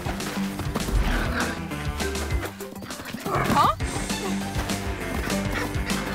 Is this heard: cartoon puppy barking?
yes